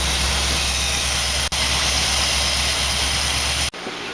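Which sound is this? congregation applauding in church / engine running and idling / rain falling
engine running and idling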